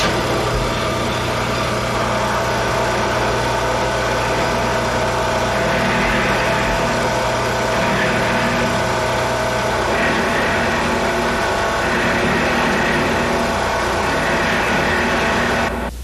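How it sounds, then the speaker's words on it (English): Drill press spinning a milling bit at high speed, routing along the table through a solid guitar body to clean up the tremolo cavity; a steady, loud, continuous machine whine and cutting roar runs throughout without pause. "I'm riding along the table on my drill press using a milling bit."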